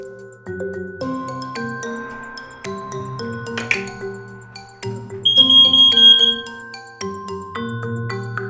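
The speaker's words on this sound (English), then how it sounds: "Test your smoke alarms weekly." A single high electronic beep from a smoke alarm holds for about a second amid a busy musical backing, standing out clearly above it.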